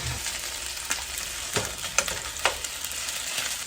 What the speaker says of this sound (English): this thing is going to start sizzling really fast